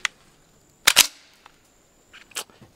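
Metallic clacks of an MP5 with a dirty magazine chambering a round: a faint tick, then a sharp double clack of the bolt slamming forward, followed by softer handling clicks, close by.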